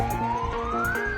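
Sirens wail loudly during a forest fire mock drill in the Jolly Grant area of Dehradun, one steady rising tone blaring continuously close by, heard alone.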